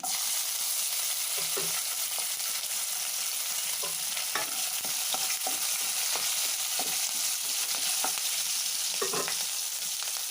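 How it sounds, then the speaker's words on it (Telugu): Ingredients for a milk-based upma fry in a pan with a loud, steady, hissing sizzle, broken by occasional sharp stirring clicks and scrapes. "సో వేగుతున్నాయండి. వేగినాయండి."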